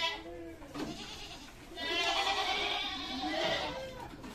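Young male goats in a livestock pen bleat repeatedly, with several overlapping, wavering calls at moderate distance, a long loud bleat in the middle, and faint background talk.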